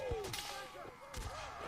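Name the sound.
musket gunfire in Mount and Blade video game battle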